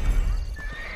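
A horse in Red Dead Redemption whinnies loudly in a short, shrill burst over a low rumbling background, with no talking.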